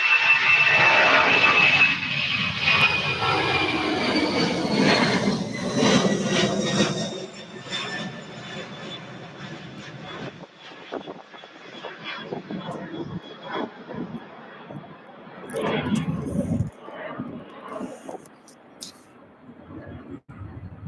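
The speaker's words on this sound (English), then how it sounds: "right behind those two aircraft is a U.S. Air Force C-40 Clipper" A U.S. Air Force C-40 Clipper jet in Air Force One colors passes at Louisville airport, its loud whining roar fading over several seconds into distant rumble while people talk over it.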